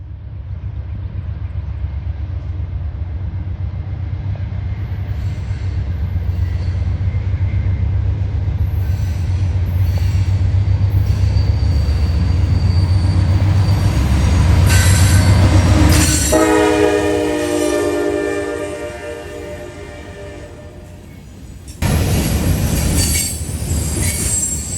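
A CSX freight train rolls past the old Baltimore and Ohio station in Troy, Ohio, with a loud, continuous rumble of railcars building up close, then piercing, high, wavering wheel squeal, and a brief horn-like burst near the end.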